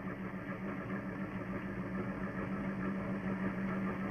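A warm car engine idles steadily at a low, even hum, quiet and unbroken throughout, with a faint whine above it.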